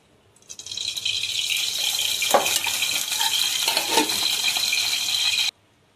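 Oil poured into a hot pan for home cooking starts a steady, close hiss that holds for about five seconds, with a couple of clinks of a utensil partway through, then cuts off abruptly.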